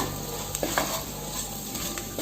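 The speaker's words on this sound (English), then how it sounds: "So as the onions are getting fried, I am adding the required amount of salt." Soft, steady sizzling of onions frying in a pan, with occasional scraping stirs from a utensil.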